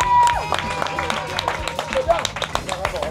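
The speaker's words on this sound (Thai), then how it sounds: "ขอเสียงปรบมือเลยครับผมสุดยอดนะ" A small group on a boat trip claps in a brisk, uneven burst with a few cheers, close by and mixed with voices talking.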